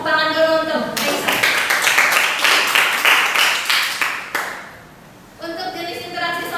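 A classroom group claps for a student named Aisyah during a microteaching lesson: a close, lively burst of hand claps lasting about three seconds. Talk comes just before it, and the talking resumes once the clapping stops.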